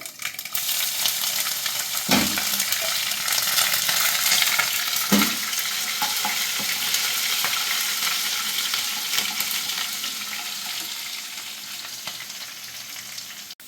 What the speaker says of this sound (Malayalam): ചൂടായി അതിലേക്ക് കടുകിട്ടു കറിവേപ്പിലിട്ടു ഇനി അതിലേക്ക് ഇഞ്ചി പച്ചമുളക്